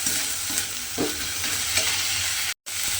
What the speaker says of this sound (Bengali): আদা রসুনটা দিয়ে এবারে আমি খুব ভালোভাবে আবারও একটু ভাজা ভাজা করে নেব